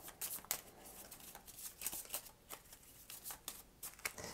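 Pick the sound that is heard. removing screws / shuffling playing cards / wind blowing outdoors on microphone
shuffling playing cards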